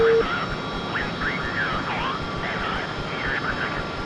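Fighter jet engines start up in a flight simulator game, a steady loud roar with warbling electronic tones repeating over it.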